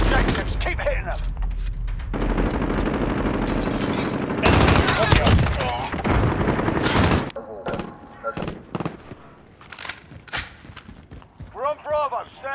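A sentry gun fires in the Call of Duty: Modern Warfare video game, a dense stream of rapid automatic gunfire mixed with other shots and blasts. Voices then talk over sparser gunfire.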